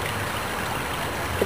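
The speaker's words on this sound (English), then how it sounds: "Hear the gentle trickling of the Amazon River." Gentle trickling of the Amazon River, a steady soft broadband wash of flowing water at low level, continuous throughout with no voices.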